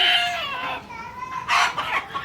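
Native country chickens and a rooster calling close by, a drawn-out crow followed by shorter squawking clucks in a brief, loud burst.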